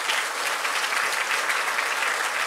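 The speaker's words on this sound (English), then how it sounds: "let's have a loud round of applause" Dense, steady audience applause after a lecture on India's economy, many hands clapping at once with no pauses, loud and close throughout.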